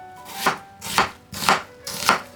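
Kitchen knife mincing onion on a cutting board, four evenly spaced, fairly close chopping bursts with a steady rhythm and no talk.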